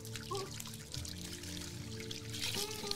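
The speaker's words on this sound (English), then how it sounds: "Like, look at the water just pouring in." Fresh water pouring steadily into an underground toilet water slide, a continuous rushing splash with a faint hum underneath and no voices.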